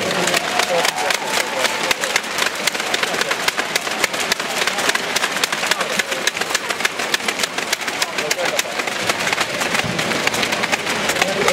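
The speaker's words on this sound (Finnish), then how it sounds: "Ja aplodit Ari-Pekka Nikkolalle." Audience at a basketball game in Kuopio claps continuously for player Ari-Pekka Nikkola, a loud sustained patter of applause with crowd noise and a voice talking over it.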